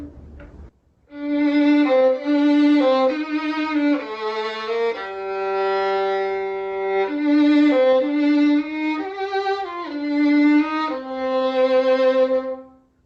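A solo violin plays a lyrical melody from Brahms' Hungarian Dance No. 1, with expressive sustained notes, slides and a few long held tones, clear and close.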